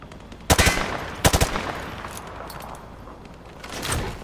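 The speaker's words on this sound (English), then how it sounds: "Private, hit the target through the wood panel." Gunshots fired through a wood panel in Call of Duty: Modern Warfare 2, two quick loud bursts of several rapid shots each, followed by a quieter echoing tail and a later softer burst.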